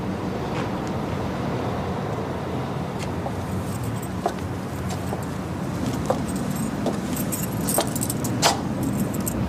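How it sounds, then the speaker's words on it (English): Keys jangle in light, scattered metallic clinks over a constant low rumble of background noise, with no voices. "Keys."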